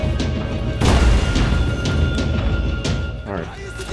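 Blind-fire gunshots in the Max Payne 3 video game, heard as a string of heavy booming, thudding shots with a voice talking over them.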